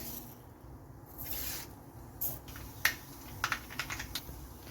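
A quarter teaspoon of mustard seeds splutters in hot coconut oil for a Kerala-style sardine curry, with sparse crackles at first and then quick, sharp pops that grow more frequent toward the end.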